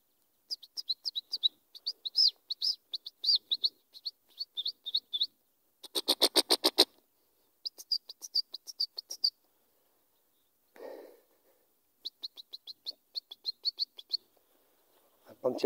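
A male bird chirps in quick high-pitched bursts of rapid tweets, separated by short silences, clear and fairly close, with a brief low sound between the bursts.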